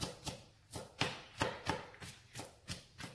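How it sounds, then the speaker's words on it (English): A big kitchen knife chops garlic on a cutting board for porridge, with about eight crisp, evenly spaced knocks in a steady rhythm, close and clear, with no voices. "use one of these big knives and just pound it down like that. That's it. And then you just cut it up."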